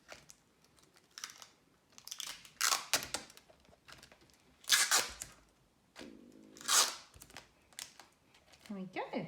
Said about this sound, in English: And cut a bit more tape.